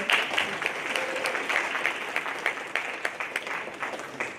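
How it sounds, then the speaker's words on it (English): Steady applause from an audience fills the room, many hands clapping continuously at a moderate level. "A warm round of applause For Gabriel."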